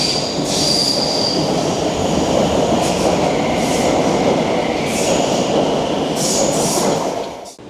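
A Stockholm metro train of the newer model pulls up at a station platform, its wheels squealing and carriages rumbling loudly and steadily, with brief high screeches recurring, fading out at the very end.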